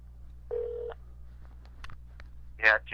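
A short electronic tone sounds as a call is placed on a phone, followed by faint clicks and a few brief voice fragments, fairly quiet and close.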